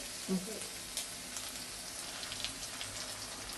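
Ginger and garlic sizzle in hot oil while being stirred, a faint, steady frying hiss with a few soft clicks, low in level and with no voices.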